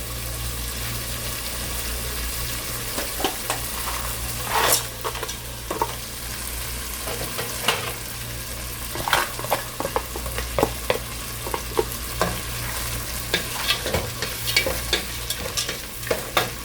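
Frozen vegetables fry and sizzle steadily in a lightly oiled pan, with a spoon scraping and stirring in irregular clacks throughout; a low hum continues underneath, and no one speaks.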